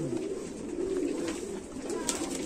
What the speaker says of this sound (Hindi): तो ये भी बड़ी हाई क्वालिटी का कबूतर है